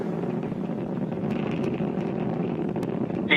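The Falcon 9 rocket engines of the Crew-4 launch from Kennedy Space Center roar during ascent as a continuous, steady rumbling drone, with a brief sharper burst right at the end.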